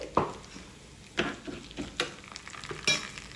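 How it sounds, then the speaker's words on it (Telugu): Mustard seeds and cumin frying in hot oil, a soft sizzle broken by a few sharp pops and stirring knocks over a few seconds, with no voices. "ఇవి కొద్దిగా వేగిన తర్వాత కొద్దిగా ఆవాలు అలాగే ఒక అర స్పూన్ జీలకర్ర వేసుకోవాలి"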